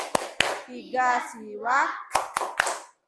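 Sharp hand claps ring out in a Hindu religious-education classroom during the Trimurti clap game: two crisp claps open, then children chant together, then three more quick claps close the pattern.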